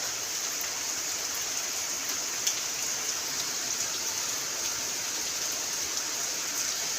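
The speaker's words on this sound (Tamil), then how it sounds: "மழை பெய்யுது" Steady rain falls outdoors, a dense even hiss with scattered droplet taps running throughout, close and moderately loud with no voices.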